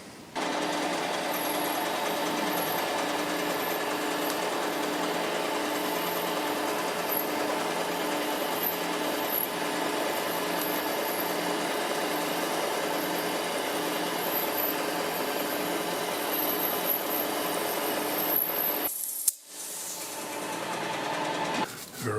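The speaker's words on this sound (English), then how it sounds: "We'll switch the drill out for the 10mm end mill." A milling machine cuts 7mm-deep counterbores with a 10mm end mill, a steady, close mechanical whir with a high whine and rhythmic chatter running nonstop, then a brief stop and a clunk before it spins up again.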